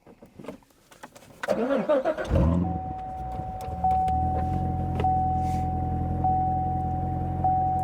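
Start-up of a C7 Corvette Z06: a quick starter crank, then the engine catches with a loud bark and settles into a steady, deep idle, with a thin whine running over the rumble.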